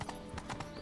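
Horse hooves clip-clop in The Witcher 3, a steady trotting rhythm of about four or five close, crisp hoof strikes over a short stretch, with no talk over them.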